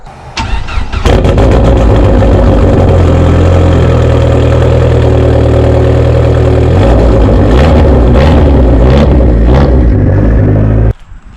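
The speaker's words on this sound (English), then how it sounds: "So perfect time to do a nice cold start on the SRT and see how it sounds." Cold start of an SRT engine fitted with Crower 3.4 cams and a fully built CNC-machined head: a sharp crank and catch, then a loud, lumpy, choppy idle that settles lower before the engine shuts off near the end.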